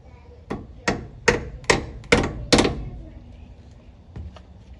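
A hammer drives a new door pin bushing into a Silverado door, six sharp metallic strikes in a steady rhythm followed by a lighter tap, close and loud with no speech.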